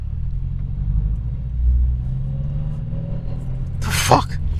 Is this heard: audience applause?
no